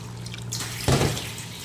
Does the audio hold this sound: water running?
yes